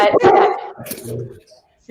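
A dog barks indoors, loud and close: a couple of sharp barks followed by softer yips and whimpers, with a person's voice mixed in.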